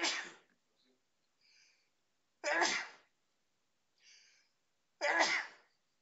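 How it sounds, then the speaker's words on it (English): Three sharp sneezes set off by pepper, evenly spaced a couple of seconds apart, close and loud, with quiet sharp inhalations between them. "Excuse me, I'm about to sneeze."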